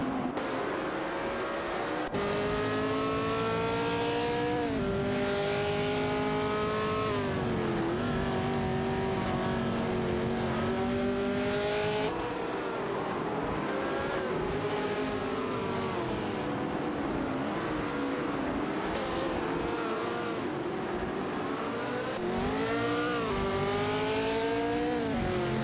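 Race car engines in an AI-driven video game race, loud and continuous, with high whining revs that climb and drop repeatedly through gear shifts as cars run close together.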